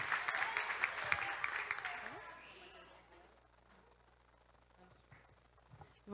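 A church congregation claps for Jesus during a worship celebration, a brief burst of crowd applause that fades within a few seconds into quieter room noise with faint voices.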